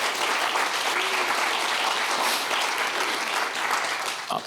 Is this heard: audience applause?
yes